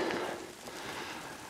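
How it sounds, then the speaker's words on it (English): Rain falls steadily in a soft, close hiss of drops pattering on a surface, fairly faint, with no voices. "It is now raining"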